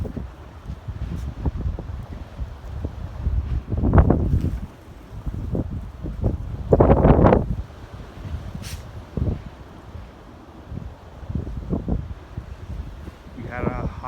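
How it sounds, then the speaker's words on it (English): Strong outdoor wind of roughly 40 to 50 mph buffets the microphone in rough, rising and falling gusts, with a few sharper blasts and a voice talking now and then. "had winds up to 60 miles an hour. This was like 40 to 50."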